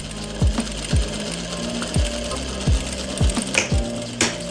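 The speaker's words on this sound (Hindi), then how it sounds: "फिर सिलाई स्टार्ट करूँगा और पक्का कर दूँगा इसे ऐसे" A sewing machine stitches a pocket onto plazo trousers in a steady, rhythmic series of close, mechanical thumps with a continuous motor hum beneath.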